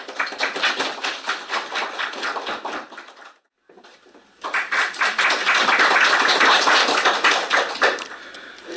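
Audience applause fills a hall at a philosophy and AI policy discussion forum: dense, loud clapping that breaks off briefly, then swells back even stronger and keeps going.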